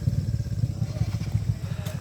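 Motorcycle engines at a motorcycle parking lot near Makassar in the evening, a steady low pulsing rumble that stays close and fairly loud throughout without any clear revving.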